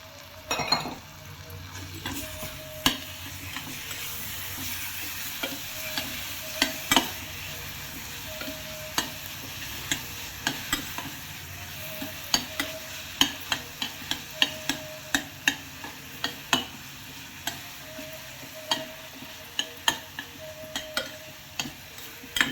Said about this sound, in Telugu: తిరగమాతలు మనం ముందుగా కలుపుకున్న మామిడికాయ తురుము వేసి బాగా కలిపెట్టుకోవాలి